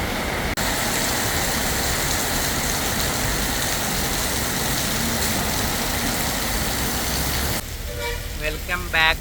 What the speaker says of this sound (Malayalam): ഇവിടെ കറണ്ടില്ല, ഇവിടെ നല്ല മഴ.